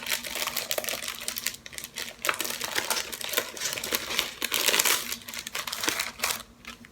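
Hands open a package holding a floss card, giving continuous close crinkling and rustling of wrapping with quick tearing and rattling bursts, loud and busy throughout.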